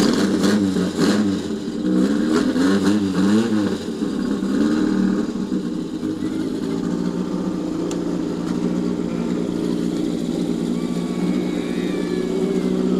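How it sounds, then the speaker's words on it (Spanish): A TC2000 race car with a 2000 cc engine, roughly 150 horsepower, running loud and close, with a few rhythmic revs early on before settling into a steady, rough idle with no talk over it. "Vamos a ver si lo podemos poner en marcha para que usted escuche el sonido de estos motores"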